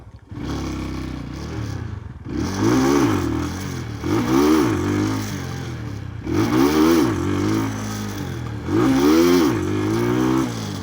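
A Falcon Freedom 250 cruiser motorcycle revs hard in repeated bursts during a wheelie test, with its engine note climbing and falling about four times over a steady idle. The sound is close and loud, and no one speaks.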